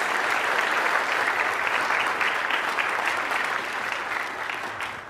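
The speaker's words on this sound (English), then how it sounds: "So one big round of applause again for everyone." Steady, dense applause fills a public science event hall after a panel on a space quantum physics lab, a broad wash of many hands clapping that holds loud, then eases slightly near the end.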